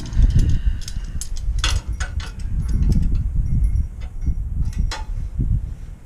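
A metal part for a lawnmower repair is clamped before welding, with clicks, ratcheting and scraping close by. Irregular metallic taps and clacks sit over low rumbling handling noise.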